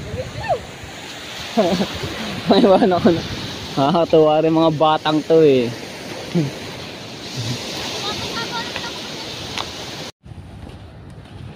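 A river flows beside a riverbank walk, giving a continuous, fairly loud rushing-water hiss under the talk of a man with children nearby, before cutting off abruptly near the end.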